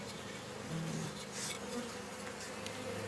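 Honeybees buzz around a hive in a soft, continuous drone, a swarm of wings humming at close range with no voices.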